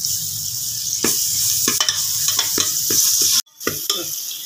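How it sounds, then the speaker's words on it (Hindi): Garlic-ginger paste and onions sizzle steadily in a hot pan for a chana achari daal, with repeated scraping stirs clicking across the hiss and one brief pause near the end. "इसको भी थोड़ा हम भून लेंगे।"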